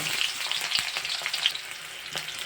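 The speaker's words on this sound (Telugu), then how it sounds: "స్టవ్ పైన బాండి పెట్టి ఆయిల్ వేసుకోవాలి జీలకర్ర ఆవాలు పచ్చిమిరపకాయలు ఉల్లిగడ్డలు" Cumin, mustard seeds, green chilies and onions frying in oil in a pan on the stove, a steady close crackling sizzle with small pops and stirring scrapes throughout.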